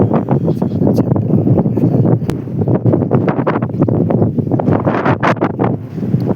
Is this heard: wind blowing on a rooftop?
yes